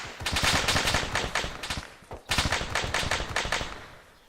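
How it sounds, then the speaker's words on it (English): Rapid automatic gunfire rattles in a military video game, coming in two long, loud bursts separated by a brief pause, with a fast, even rhythm of shots. "Alpha, we're taking fire southwest now."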